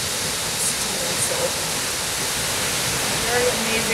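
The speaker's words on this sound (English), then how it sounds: "So we're at this amazing waterfall." Skogafoss waterfall in Iceland roars as a steady, dense, close rush of falling water that fills the whole stretch without a break.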